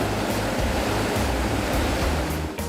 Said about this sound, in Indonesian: Gemercik air dari ratusan sungai mengalir